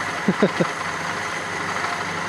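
A Fiat Panda 4x4 Sisley engine, recently worked on for carburetor cleaning and repair, idles with a steady, even hum throughout, with a brief voice-like sound near the start.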